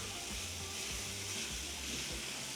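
Ground beef, an 85/15 blend seasoned with onion and garlic powder, browns in a pan for stuffed bell peppers, giving a steady low sizzle and crackle with faint stirring, no talking.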